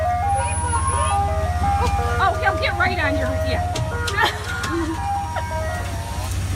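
An ice cream truck's jingle plays a tinkling melody over a low idling engine rumble, with people talking over it throughout.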